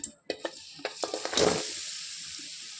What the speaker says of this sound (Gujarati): તો આપણે આ રીતે ઘીમાં ખજૂરને સરસ શેકી લેવાનો છે